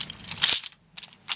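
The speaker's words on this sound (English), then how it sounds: "So here are the keys I was talking about." A bunch of keys loaded with many keyrings and souvenir charms jingles and clatters in two metallic bursts with a brief gap between them, close and fairly loud.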